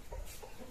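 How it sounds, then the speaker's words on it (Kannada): Domestic hens at a home cluck in short, soft bursts, a few low calls scattered across a quiet moment with no talking. "ನಮ್ಮ ಮನೆಯ ಕೋಳಿಗಳು"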